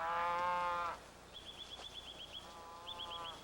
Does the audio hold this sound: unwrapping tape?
no